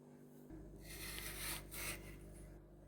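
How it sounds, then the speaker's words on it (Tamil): Raw plantain being sliced for bajji gives a soft, continuous scraping and rasping close by, with brief louder strokes mixed in. "இந்த மாதிரி நல்லா சீவி எடுத்துக்கலாம்."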